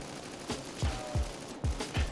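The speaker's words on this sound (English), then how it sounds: "you're going to squeeze the trigger, it's going to shoot, and then when you let go of the trigger, it's going to shoot" A gun fitted with an XRK IPv2 conversion kit fires in a video game, a quick run of about five sharp, evenly spaced shots over a low steady background.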